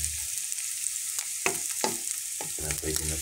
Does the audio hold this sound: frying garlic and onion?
yes